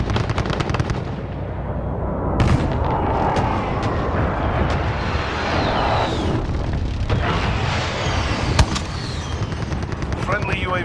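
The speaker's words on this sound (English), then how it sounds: "Enemy precision airstrike inbound." Dense barrage of explosions and gunfire from a precision airstrike in the Call of Duty: Modern Warfare video game, continuous and loud throughout, with booming impacts and crackling shots layered over game voice announcements.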